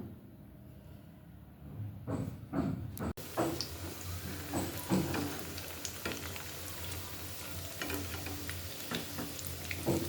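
Chicken nuggets coated in egg fry in oil on a low flame, giving a steady close sizzle with scattered crackles and a few handling clicks, with no voices.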